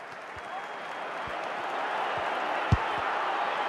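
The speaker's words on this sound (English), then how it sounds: "The crowd certainly think so. Just listen to that noise." Stadium crowd noise in the FIFA Mobile football game during the dying minutes of a match, a broad steady roar of cheering with a few dull thumps, held at an even level throughout with no voices standing out.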